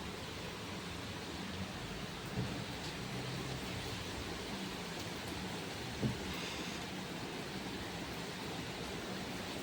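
Continuous steady hiss of rain falling outside, with a couple of faint soft knocks in the background.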